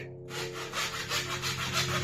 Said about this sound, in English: this is not how you cut a piece of timber